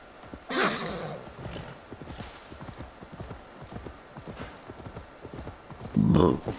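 Horse hooves clip-clop in a steady walking rhythm in the video game Assassin's Creed Valhalla, with brief louder bursts at the start and near the end.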